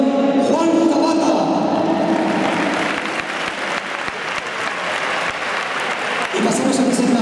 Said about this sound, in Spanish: un fuerte aplauso para otro de los púgiles